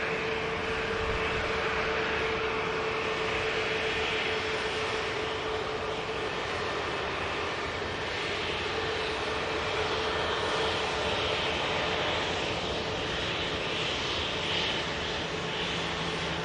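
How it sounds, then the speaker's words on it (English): Several airliners taxi slowly at Manchester Airport, their jet engines giving a steady, broad roar with a low whine that holds without break throughout. "All these aircraft are just slowly taxiing."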